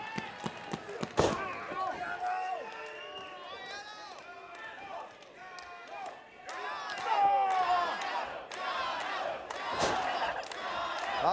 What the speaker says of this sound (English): A very pro Yano crowd here in Atlanta.